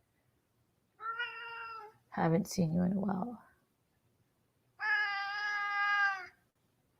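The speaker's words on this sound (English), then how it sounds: "Bro, how many times have y'all heard my cat while I'm live?" A cat gives two long, loud meows separated by a few seconds, and a person speaks briefly between them.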